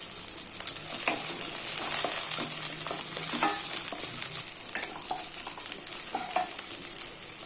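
Shallots fry with slit green chillies in a pan for sambar rice, giving a loud, steady sizzle with scattered clinks and scrapes from stirring throughout.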